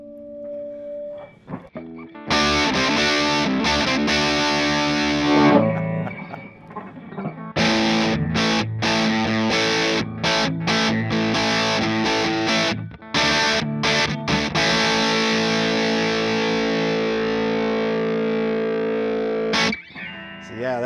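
Electric guitar through a small 3-watt amp turned up loud to mid volume, distorted chords ringing out in bursts with short pauses between, close and overdriven.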